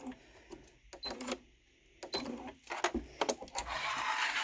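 A sewing machine stitches a vinyl card wallet at slow speed with a 4.5 stitch length, giving short bursts of soft mechanical clatter separated by pauses. The sound is close and fairly quiet.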